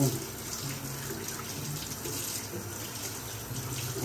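Dishes are washed under a steady stream of running tap water, a constant close splashing gush into the sink with faint clinks, no talking.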